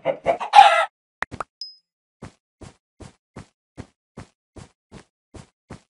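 Blocky Minecraft chickens cluck in a video game, with a few louder squawks up front followed by a steady series of short, evenly spaced clucks standing alone.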